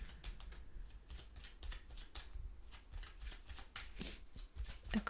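Tarot cards being shuffled by hand, a continuous quiet riffle of rapid papery flicks lasting several seconds, close and soft, with no talking.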